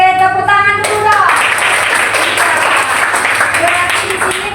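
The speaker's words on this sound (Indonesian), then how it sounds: "tepuk tangan dulu dong." Children in a primary-school religion class clap their hands together in a dense, steady burst of applause, fairly loud and close, with a teacher's voice briefly heard at the start before the clapping fades slightly at the end.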